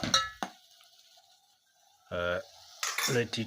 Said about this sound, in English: I stir it well and let it